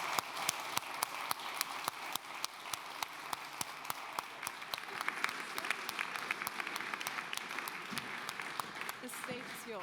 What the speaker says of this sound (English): So I kindly ask you to give him the loudest applause that you have for today